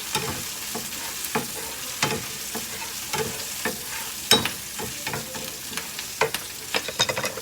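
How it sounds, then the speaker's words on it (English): Onions cooking in a pan, with a continuous sizzle and frequent sharp utensil clicks and scrapes from stirring, heard up close with no talking. "while the onions are cooking"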